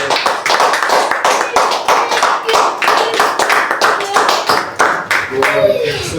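A church congregation claps loudly together in a quick, fairly regular rhythm, while a voice speaks or sings over the steady beat of hands.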